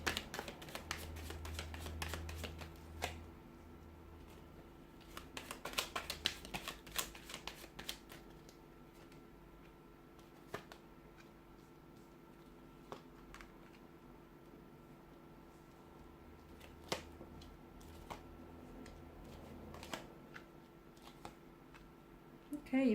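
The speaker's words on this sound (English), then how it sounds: "So we'll give the cards a shuffle" Tarot cards are shuffled in several quick riffling bursts, crisp papery flutters close to the mic, separated by quieter stretches with faint handling.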